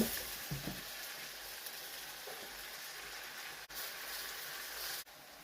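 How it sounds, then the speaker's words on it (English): Cabbage going into a pan of chicken chop suey, with a steady broadband sizzle of frying throughout, brief stirring knocks near the start and short dips where the pan is moved. "Now I'm gonna go ahead and I'm going to put the cabbage in."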